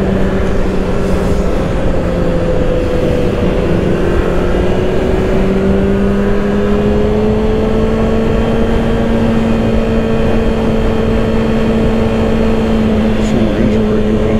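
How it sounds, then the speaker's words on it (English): A 2024 Kawasaki Ninja ZX-6R under engine braking on a road, with a loud continuous engine drone that slowly shifts pitch and heavy wind rush. "Some more engine braking going on."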